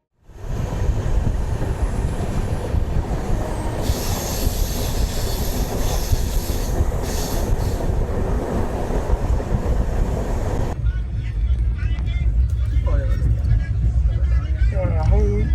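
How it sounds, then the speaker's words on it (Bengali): The Chennai Mail express train (12839, Howrah to Chennai) rumbles along the rails with a loud, continuous roar of wheels and carriage noise heard from inside, the tone shifting partway through. "আমাদের ট্রেন এই সবে ঢুকলো ভুবনেশ্বর"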